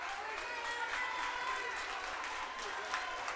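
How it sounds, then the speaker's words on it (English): Crowd applause at a high school basketball game as a player fouls out, a steady, moderately distant patter of many hands under announcer commentary. "Nice round of applause"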